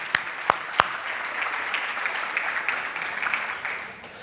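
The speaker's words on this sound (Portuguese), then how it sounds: "Um aplauso ao Senhor pela vida do Felipe" Three sharp, close claps ring out first, then a congregation at a church service breaks into a broad, even round of applause that gradually thins toward the end.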